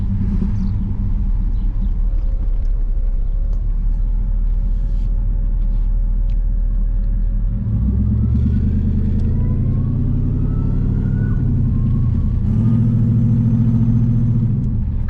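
An LS-swapped V8 in a Firebird runs with a steady low rumble like an idle, then the note climbs and swells as the throttle opens, falls back and rises again, close and loud with no talking.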